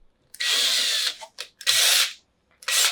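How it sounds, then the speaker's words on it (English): Screw gun driving long screws into a Vivarium Electronics VE-6 or VE-2 reptile rack: three loud, close whirring bursts of about half a second each, separated by short pauses and a brief blip. "If you're using a screw gun, you might have to dial it back just so you don't accidentally shoot it through."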